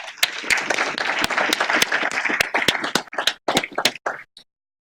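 A meeting audience applauds, a dense clatter of many hands with sharp individual claps standing out, then thinning and fading to silence near the end.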